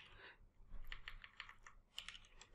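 Quick, uneven bursts of key clicks from typing on a computer keyboard, apparently entering an npm install command for Ionic, sound close and fairly quiet with short pauses between runs of keystrokes.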